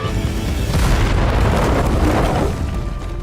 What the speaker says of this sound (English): With the dynamite about to blow, he had no choice but to run.